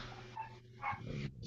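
A dog lets out a couple of brief, muffled barks and yips in the background of a room, faint under a steady hum.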